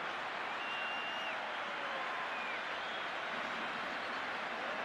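A distant stadium crowd at a 1984 Barbarians versus Australia rugby match in Cardiff applauds and roars after a try, a faint, steady wash of clapping and cheers with a few whistles.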